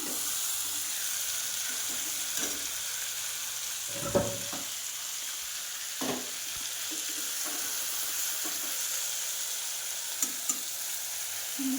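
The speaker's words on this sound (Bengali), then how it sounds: "এটাকে আমি ভালো করে ভেজে তুলে নেব" Oil sizzles steadily in a pan, broken by a few sharp clinks and scrapes of a utensil stirring frying prawns.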